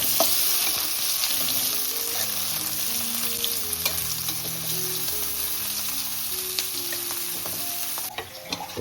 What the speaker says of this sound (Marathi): लसूण नंतर लगेच कांदा बारीक केलेला तर मस्त परतून घ्यायचा